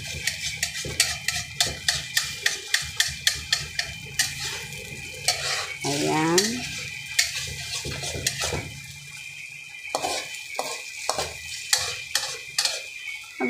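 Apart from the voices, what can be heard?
stirring food in a frying pan with a ladle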